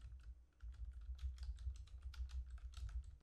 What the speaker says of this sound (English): Type the following command, powercfg space dash,